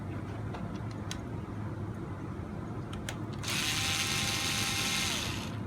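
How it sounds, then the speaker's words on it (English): A screw being backed out of an RC car axle that holds the shock and lower link, on an Extreme RC 4x4 CR12 crawler, gives steady mechanical ratcheting clicks under a constant low hum, louder and brighter in the final seconds. "we're going to want to remove the screw right here in the axle, which it attaches the shock and the lower link to the axle"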